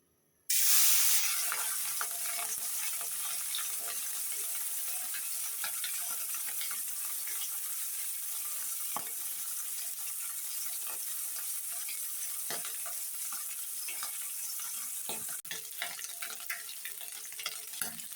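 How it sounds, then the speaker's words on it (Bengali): Fish sizzling in hot, smoking oil, frying steadily and evenly for a long stretch with a bright hiss and scattered small pops, fairly faint and steady, with no voices. "এই তো বন্ধুরা, আমি মাছটা ভালোভাবে ভেজে নিতেছি।"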